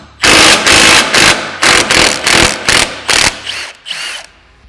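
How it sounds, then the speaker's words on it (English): A power drill or impact tool removes the lower cage bolt on a Polaris General XP 1000 during a windshield install, running in about eight loud, close bursts that fade toward the end. "Now we're going to remove our lower cage bolt here."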